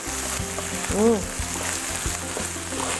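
Chicken pieces sizzle in hot oil in a wok for nasi mawut, a steady frying hiss broken by rhythmic scraping and knocking of a spatula while a voice talks over it.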